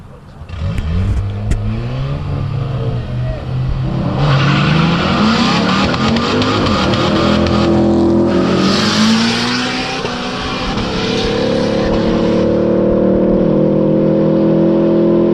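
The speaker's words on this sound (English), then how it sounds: "that's a nasty burnout" A turbocharged car with a 2.5-inch exhaust revs hard while tires squeal and skid in a sustained burnout, loud and close, rising and falling, with voices under the roar.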